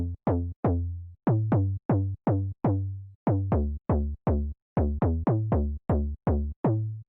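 A plucky synth bass pushed through overdrive plays a bouncy repeating pattern of short, punchy notes with sharp attacks and quick decays, loud and up front with no voices.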